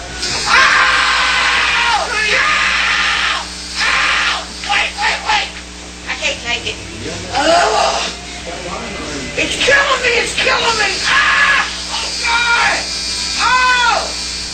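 Several people scream and cry out in pain while getting tattooed, giving loud, strained wails and yelps in bursts, mixed with some talking and background noise.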